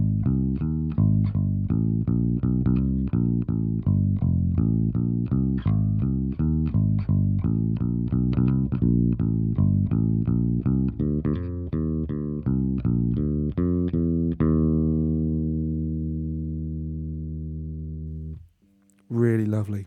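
Bass played through an Ampeg SVT-VR amp simulator in a fretless mode with a warm jazz tone, a run of plucked notes ending on a long sustained note that fades, then a brief thump.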